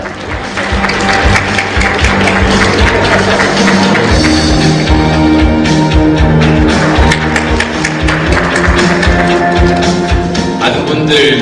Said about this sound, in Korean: 여러분, 안철수 의원님을 큰 박수로 맞이해 주시면 대단히 감사하겠습니다.